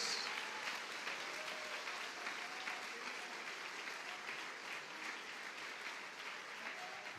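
Applause from a church congregation during a Portuguese-language sermon: sustained, even clapping from many hands that fills the room at a moderate level.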